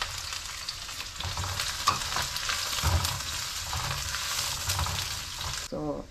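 Garlic and onion sizzle steadily in hot oil in a wok for a kare-kare sauce, a dense continuous hiss with faint stirring scrapes, cutting out abruptly near the end.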